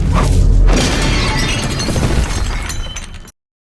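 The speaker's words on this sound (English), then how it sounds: "the scene where Norp literally gets smashed in the head with a freaking plant pot" Plant pot smashed over someone's head in the film Hot Fuzz, a loud, close crash of shattering ceramic with scattering debris that fades out over a few seconds before cutting off.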